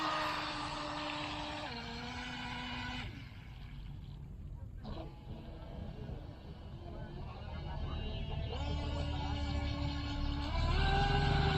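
A WLtoys WL916 RC speedboat racing across calm water, its small high-revving motor whining loudly, then fading and swelling again as it passes, with steady water rush underneath.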